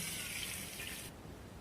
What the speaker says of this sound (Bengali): এখন আমি এর মধ্যে দিয়ে দেব এই বাটির মাপে দুই বাটি জল